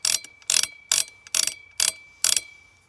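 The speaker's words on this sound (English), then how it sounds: "with the turn of the nut on the end" The adjustment nut on a Matador Arms Regulator rifle muzzle brake being turned, giving six crisp ratcheting click bursts at an even pace, close and clear against silence.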